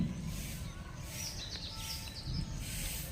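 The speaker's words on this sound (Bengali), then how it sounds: "সকালবেলা পাখিদের কোলাহল" Morning birds chatter around a roughly 200-year-old banyan tree outside a Shiva temple, with a few high chirps over a steady outdoor hum and no voices.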